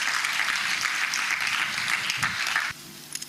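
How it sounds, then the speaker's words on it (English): An audience claps steadily in a dense, sustained round of applause at an electoral reform event as a guest is called to the stage, stopping abruptly near the end. "a round of applause"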